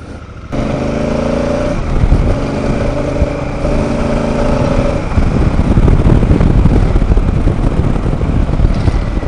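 Honda Africa Twin CRF1000L motorcycle ridden on gravel roads, a loud, close engine note rising under throttle, then a steady rushing roar mixed with tire and gravel noise through the rest of the run.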